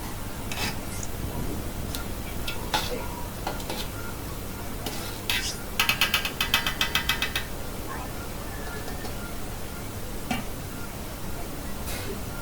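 Biryani rice being stirred in a pot with a spoon, producing soft scraping and rustling with occasional sharp clinks against the metal. A brief burst of rapid clattering comes midway, and the stirring sounds close and steady.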